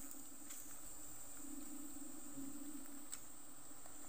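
A thick swarm of honeybees buzzes in a steady, continuous drone close by outdoors in the countryside, with a few faint rustles and no talk.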